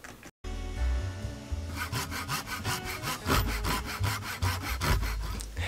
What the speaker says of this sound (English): Anytime you're taking a hacksaw to your rifle,